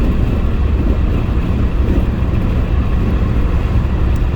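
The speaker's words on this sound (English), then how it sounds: "I want you to listen again to the wind." Steady wind buffeting a moving vehicle on a highway among large trucks, a loud continuous low rumble and roar with no breaks and no voices.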